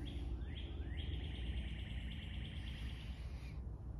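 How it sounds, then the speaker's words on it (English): Birds chirping outdoors, a repeated high trill continuing for several seconds over steady low background noise, faint and fairly distant, with no voices. "the birds are chirping"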